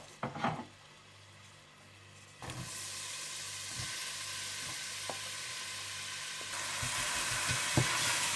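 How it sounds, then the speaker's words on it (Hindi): Minced onion and garlic sizzle steadily in hot oil while being lightly sautéed for spaghetti bolognese, getting louder after a clatter as they hit the pan, with occasional stirring clicks. "इसमें डाल दें आप पिसा हुआ लहसुन और प्याज, और इसे हल्का सा सोते कर लीजिए"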